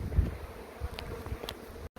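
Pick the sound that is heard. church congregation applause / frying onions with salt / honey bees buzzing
honey bees buzzing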